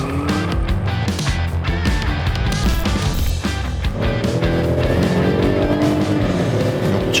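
Kia K9 sedan with a 3.8 V6 engine accelerating hard in sport mode, revs climbing steadily to a forced upshift at 6,000 rpm, then pulling again; loud, continuous engine tone with no talking.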